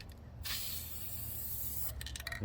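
Dupli-Color vinyl and fabric coating spray paint hisses from an aerosol can in one continuous close burst of about two seconds, then cuts off into short sputtering bursts.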